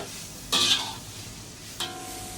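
A spoon stirring bitter gourd as it fries in a pan, two quick scraping stirs over a quiet, faint sizzle.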